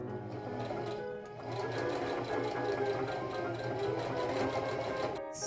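A sewing machine stitches a gathered lace ruffle onto the bottom hem of Edwardian drawer flounces, a steady close whirring motor hum with a fast mechanical needle rhythm, starting after a brief pause and running alone without talk.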